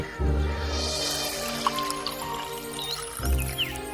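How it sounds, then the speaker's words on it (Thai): Water poured from a pitcher for a thirsty old woman, a liquid gurgle and trickle lasting several seconds with a couple of low thumps, fairly close and clear, with a soft musical tone underneath. "พอเห็นว่าหญิงชราหิวน้ำนางก็เทน้ำเพื่อดับกระหายให้"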